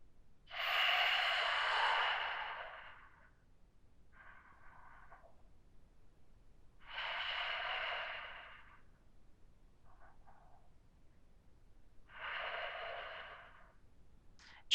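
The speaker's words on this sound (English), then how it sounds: "Deep Ujjayi breathing as we started off" Deep Ujjayi breathing during a yoga class: three long, audible breath cycles, each a strong airy rush followed by a shorter, quieter exhale-like hiss, close and rhythmic, with near silence in between.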